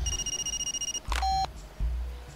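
A telephone rings in the video game Far Cry 2: a quick run of evenly pulsed electronic beeps, then a longer steady tone. The sound is clear and alone, over a low background hum.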